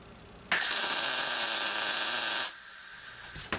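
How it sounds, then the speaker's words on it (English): Tack weld laid on a go-kart radius rod: a loud, steady crackling hiss starting abruptly and holding for about two seconds, then dropping to a quieter residual sizzle, with a brief click at the end. "I'm going to put a tack weld right here"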